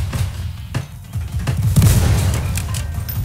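Gunfire rattles through a Roblox WWI battle video game: repeated loud, sharp shots and booming bursts in an uneven stream over a constant low battlefield roar.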